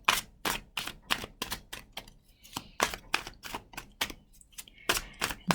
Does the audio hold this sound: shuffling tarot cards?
yes